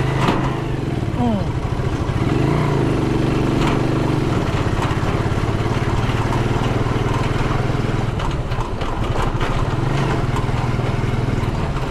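A small motorcycle engine drones steadily and loudly throughout while riding, its buzzing note shifting slightly with throttle, with voices talking over it.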